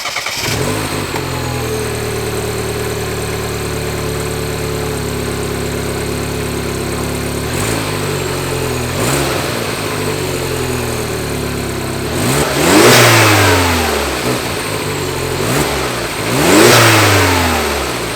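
Mini R56 engine, fitted with a GFB recirculation valve, settles into a steady idle, then is blipped in sharp revs around the middle and again twice more, each rise and fall loud and close.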